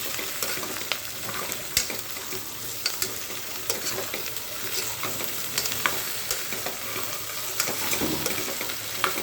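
Close sizzling of tapioca and onions stirred in a frying pan, with repeated scraping and stirring strokes, a continuous crackle punctuated by utensil clicks.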